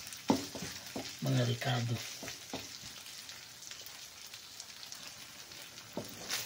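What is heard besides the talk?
meat frying and sizzling in its own fat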